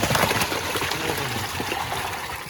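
Water pours and splashes steadily as fish are tipped into a pond, a continuous close gushing trickle with no clear talk over it.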